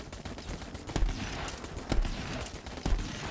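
Turret gunfire in Guns, Love, & Tentacles: faint sharp shots arrive about once a second, three distinct bursts over a low, busy game backdrop.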